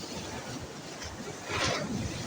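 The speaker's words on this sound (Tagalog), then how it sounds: "lakas ng alon" Strong ocean waves on a beach in Ilocos Sur, a continuous broadband roar of surf with wind buffeting the microphone, swelling louder as a wave hits midway.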